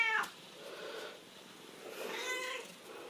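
A house cat meowing indoors, a short sharp meow at the start followed by softer murmuring sounds and a second drawn-out meow, close and fairly quiet with no talk.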